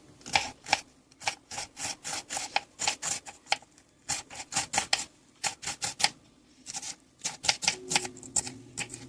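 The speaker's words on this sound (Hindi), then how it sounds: "ऐसे छोटे छोटे पीस काट लें और इसको अच्छी तरह से मिक्स करें" Chopped pieces worked by hand into minced mutton with some fat for Peshawari chapli kebab, a close, quick run of wet, squelching strokes in steady bursts with brief pauses, no talking.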